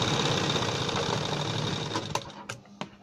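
A sewing machine stitches a garment's neck piece during shoulder assembly, a steady mechanical whir running close and continuous before breaking into a few short separate bursts near the end.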